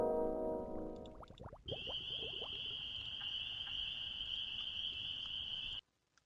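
A Scratch sound effect of crickets chirping gives a steady, high, buzzy trill that holds evenly for several seconds after a brief lower burst of sound, then cuts off abruptly.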